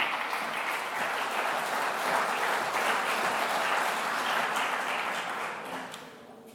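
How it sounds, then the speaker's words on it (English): A summit audience gives a full, dense round of applause for a speaker taking the lectern. It holds steady for several seconds, then tapers off toward the end. "Give her a round of applause,"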